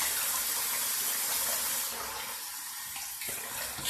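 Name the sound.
water running from a tap for washing face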